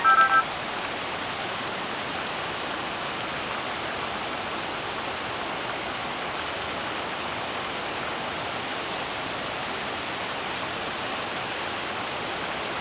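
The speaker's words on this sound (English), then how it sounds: "It's raining really hard." Steady, dense hiss of hard rain pouring continuously, broadband and unbroken, with no voices or other distinct sounds.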